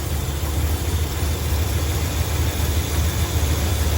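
A 1978 Dodge D200 crew cab with a 440 V8 idles steadily, its low engine rumble continuous and even, with a broad hiss of noise over it and no talk.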